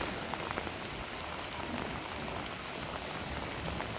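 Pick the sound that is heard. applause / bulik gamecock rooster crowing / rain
rain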